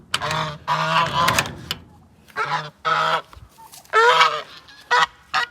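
A goose on a farmyard near a chicken pen honking loudly and close, a string of harsh repeated calls in irregular bursts with short pauses.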